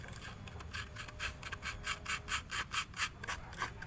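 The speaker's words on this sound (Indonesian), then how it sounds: "Ini saya menggunakan amplas kasar ya teman-teman." Coarse sandpaper rubbed back and forth over carved wood, a steady run of rhythmic scratchy strokes, close and moderately loud with no voices.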